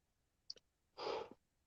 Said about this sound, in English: it's a second yawn.